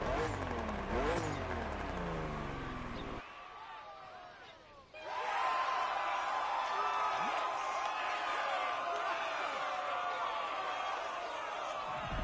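BMW M2 CS engine in The Crew Motorfest, revving hard with harmonic sweeps at first, then cutting out before a steady droning engine note holds under a wash of background game sound.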